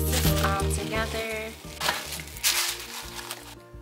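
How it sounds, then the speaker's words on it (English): A spoon stirs a sticky vegan peppermint rice crispy treat mixture in a bowl, making soft scraping and crackling strokes in an uneven rhythm over steady background music. "And I'm just going to stir this. Mix this all together."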